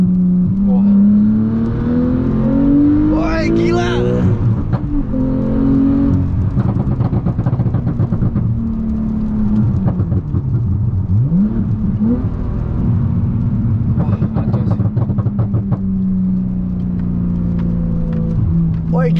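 Stage 2 Porsche Carrera 4 GTS manual, British Legends Edition, at full throttle from inside, engine roaring up through rising revs with gear changes and sustained pulls, with people talking over it.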